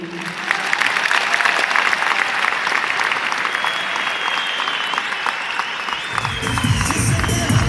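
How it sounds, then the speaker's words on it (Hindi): At a 23rd anniversary function, the audience gives sustained applause, a dense, even wash of many hands clapping, steady and moderately close for several seconds. "तो न्यूट्री चार्ज के लिए एक बार तालियां बजाएंगे हम।"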